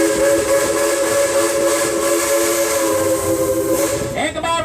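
A theme park steam train at Silver Dollar City rolls along with a steady whistle-like tone, hissing steam and rail rumble. It is loud and close throughout, and a burst of mechanical clatter comes near the end.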